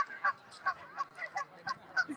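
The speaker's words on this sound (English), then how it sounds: "Goose battle." Geese at a brickworks pond honk in short, evenly spaced blasts while battling over territory, moderately loud and fairly close, with no voices over them.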